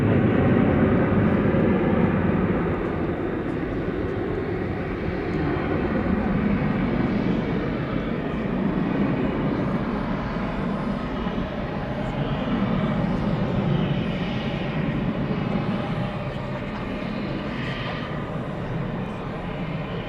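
Steady, broad jet-engine rumble of aircraft at DFW Airport at night, a continuous roar that swells slightly and stays moderately loud, with faint talk over it.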